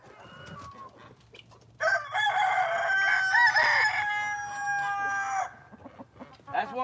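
A rooster gives a loud, drawn-out crow lasting several seconds among big red laying hens, with scattered clucks before and after in a quiet farmyard.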